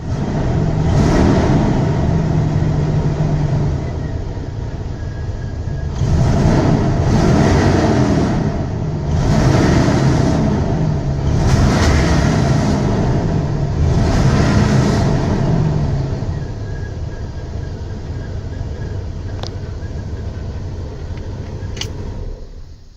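The engine of a 1986 Beaver motorhome idles after a cold start, a steady loud rumble broken by five evenly spaced throttle blips, then settling back to a smooth idle.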